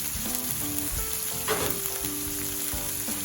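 Onion frying in a pan for Nigerian meat pie filling, a dense, continuous close sizzle with a few soft stirring scrapes.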